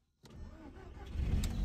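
A car engine cold-starts abruptly after a moment of silence, cranking into a loud, rough idle that swells and grows heavier toward the end, close and alone without any talking.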